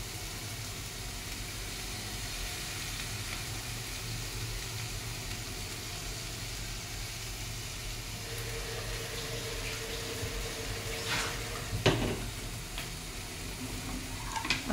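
Masala fries in a pan with mashed boiled potato and green chilli, giving a steady, loud sizzling hiss throughout, with a few sharp scraping clatters toward the end.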